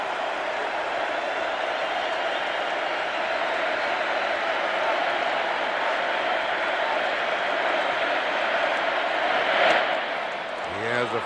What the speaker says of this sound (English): they applauded long and loud last night for this fella, and they're doing it again